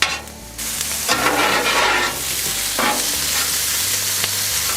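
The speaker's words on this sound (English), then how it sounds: "let's give everything a mix here" Onions and peppers sizzle loudly on a hot breakfast griddle as a spatula scrapes and stirs them through a steady frying hiss, with no talk.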